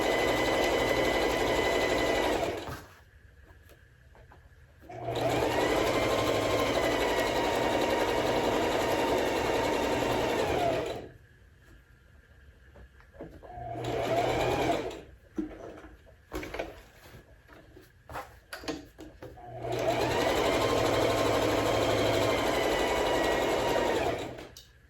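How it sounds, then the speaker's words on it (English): Sewing machine stitching across the bottom of a pocket pillow, running in loud steady bursts of several seconds each, separated by quiet pauses with small handling noises. "I'll leave the needle down in the machine, raise the foot and pivot, and sew across the bottom of the pillow."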